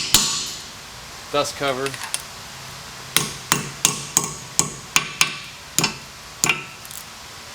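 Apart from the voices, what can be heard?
hammering a chisel to dent a dust cover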